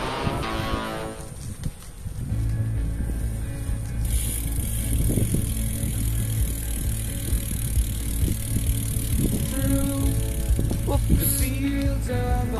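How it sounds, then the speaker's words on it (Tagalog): A tricycle rolls along a road near Mai Khao Beach in Phuket, with steady rattling and engine hum and faint clatter throughout. A hiss rises partway through. "tricycle nila dito eh"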